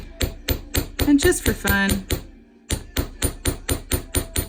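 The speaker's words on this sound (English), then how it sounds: "Okay, I have a little riveting hammer here." A small riveting hammer taps metal for earring work in steady, sharp, close strikes, about a dozen in a row with a short pause midway, while a voice speaks briefly over the first taps.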